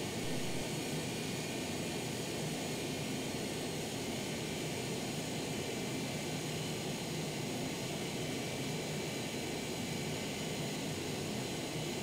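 Steady, loud jet roar from an MD83 airliner on its landing approach, a broad continuous rumble and hiss that holds level with no talking.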